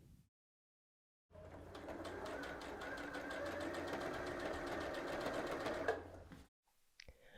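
A sewing machine stitching around a dress skirt hammers in a rapid, even run for about five seconds, close and clear, after a short quiet pause.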